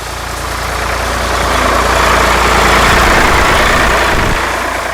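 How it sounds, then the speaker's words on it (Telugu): A sugarcane tractor's heavy engine rumbles past, a loud, steady diesel drone that swells toward the middle and eases slightly as it moves on, with no voices. "అదొక చెరుకు ట్రాక్టర్ సార్, క్రాస్ అయింది."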